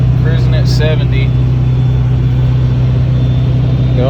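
A 6.0 Powerstroke diesel race truck cruises at 70 on the interstate, its low engine and road drone steady and loud throughout, with someone talking over it.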